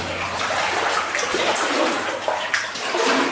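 Water sloshes and splashes continuously as someone wades through a flooded gold mine, a steady churning wash with occasional louder surges.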